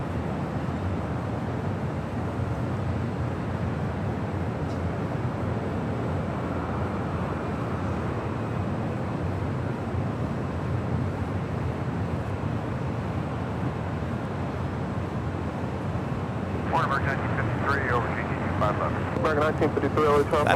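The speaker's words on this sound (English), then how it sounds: "United Airlines Flight 2186 coming in from Orlando" A United Airlines Boeing 737-800 arriving on runway 25 left at LAX makes a distant, steady jet rumble and rushing noise, with a voice talking briefly near the end.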